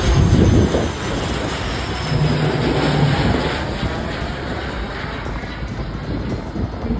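A small Indian passenger plane lands at the airport, its broad engine roar and rushing noise steady and fairly loud, with a brief heavier burst at the start.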